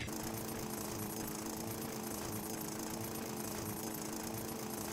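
Mining drill in the video game Space Engineers grinding steadily for the whole stretch, a dense, continuous mechanical roar with a constant hum underneath and no pauses or voices.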